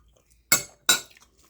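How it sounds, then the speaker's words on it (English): Two crisp clinks of a spoon against a pot or dish as stuffed pepper filling is scooped up for a taste, close and bright, alone in near silence. "you want to go in here with yourself a spoon and you want to give it a"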